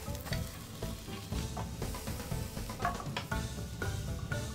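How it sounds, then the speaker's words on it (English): A rolled Japanese tamagoyaki egg omelette cooks in a pan while it is pressed against the edge, giving a loud continuous close-up sizzle and crackle with small scraping touches throughout. "gently press the tamagoyaki against the edge of the pan, adjusting the shape"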